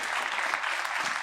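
Steady, loud applause from a church congregation during a Spanish-language service, dense clapping filling the space without pause.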